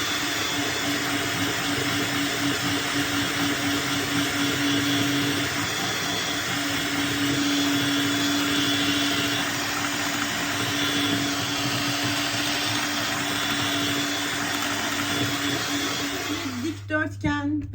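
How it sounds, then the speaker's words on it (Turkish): An electric mixer runs steadily as it whisks flour into wet cake batter, a loud continuous whirr with a faint tone that holds for the whole stretch and then cuts off near the end with clatter. "Şu unu bir yedirin ondan sonra yavaş yavaş iyice çırpıyoruz."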